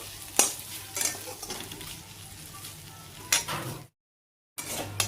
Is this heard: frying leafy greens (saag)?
yes